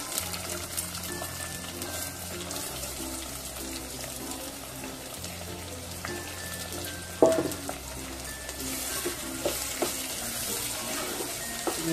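Sliced onions sauté in a pan for Saoji-style chana dal kanda, a soft, steady sizzle joined by occasional stirring scrapes and one sharper clatter midway, close and unhurried.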